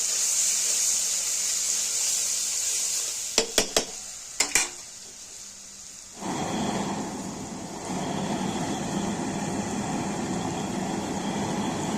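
Garlic paste drops into a hot pan and starts frying for a fish and cauliflower curry, a soft sizzle rising after a few sharp utensil clinks against the pan, then holding steady and close.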